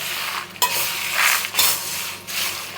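Dried chillies, lentils and garlic are roasted in a pan for Tamil Nadu style chammanthi podi, with a close spatula scraping and stirring in several distinct sweeps over a light dry sizzle.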